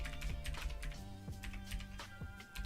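Rapid keystrokes on a computer keyboard, clicking in quick irregular bursts at close range over a steady low hum, with no voices.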